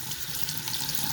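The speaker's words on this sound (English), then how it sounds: "these mushrooms have all been rinsed under running water just with my fingers and sorted" Chanterelle mushrooms are rinsed by hand under a running kitchen tap, a continuous close hiss and splash of water with no talking.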